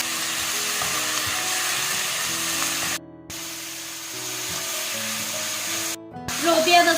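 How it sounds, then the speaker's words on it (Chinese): Pork stir-fried in a pan to render out its water and fat, a loud continuous sizzle with spatula stirring and brief interruptions. "我们先把猪肉里边的水分和油脂给它煸出来"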